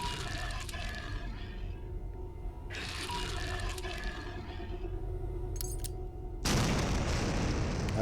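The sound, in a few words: frag grenade explosion in the video game Paracom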